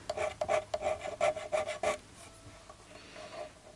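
Metal file rasping in quick repeated strokes across guitar fret edges on a Harley Benton JA-60, taking off burrs; close and steady at first, then fading to quieter, softer scraping.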